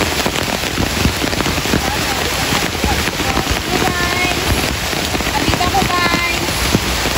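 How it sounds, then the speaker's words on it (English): Heavy rain pouring steadily outdoors during a tilapia fishing trip, a dense loud hiss of drops on surfaces with faint voices underneath. "Kasi malakas po yung ulan. Sobrang lakas talaga."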